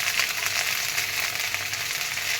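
Steady rain falls outside during a downpour, a dense, even hiss that stays constant and fairly close, with no voices over it.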